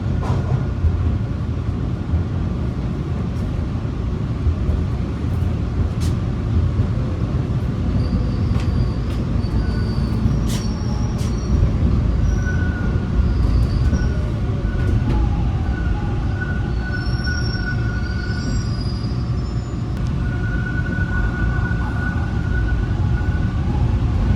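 Toronto TTC subway train on Line 1 or 2 pulling into a station, a steady loud low rumble of wheels and motors throughout, with faint high squeals and brake tones above and no talk.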